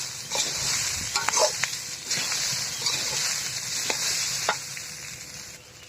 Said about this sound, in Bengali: এবার আমরা ভাজা শুরু করলাম।